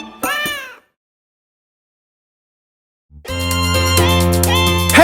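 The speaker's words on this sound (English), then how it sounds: "the cat goes meow" A cartoon cat in a children's nursery-rhyme song gives a short sung-style meow, then falls silent, then comes back meowing over a loud, sustained musical backing.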